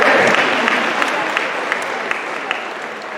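A crowd in a high school gymnasium at an academic awards ceremony gives loud, sustained applause and cheering that slowly fades, with a few sharper claps standing out.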